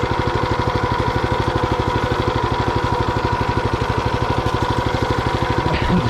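Tractor engine pulling a potato digger through a potato harvest, a steady close, loud rhythmic chugging drone with fast regular pulses throughout and no talking.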